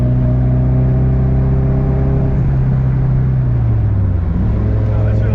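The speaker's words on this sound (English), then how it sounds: "yeah, you're hearing all exhaust" A JDM car's exhaust drones loudly and close with a steady engine tone that drops in pitch as the revs fall, the note easing off toward the end.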